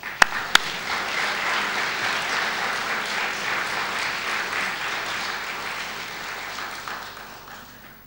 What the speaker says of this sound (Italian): Lo meritano un applauso,